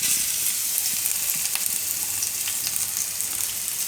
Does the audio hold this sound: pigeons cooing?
no